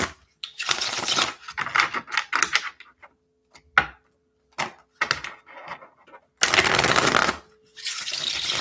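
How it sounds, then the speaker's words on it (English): A tarot card deck is shuffled in several bursts of riffling and bridging, close and crisp, with short pauses between, the last bursts longest and loudest. "I swear I just shuffled this deck"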